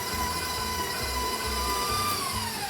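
Stand mixer running steadily at a slightly raised speed as an egg is beaten into sugar cookie dough, a continuous whirring motor hum with soft low thumps from the dough turning in the bowl.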